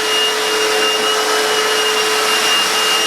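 An Einhell wet and dry vacuum cleaner drones loudly and steadily with a high whine and no pauses.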